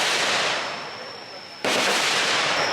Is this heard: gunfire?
yes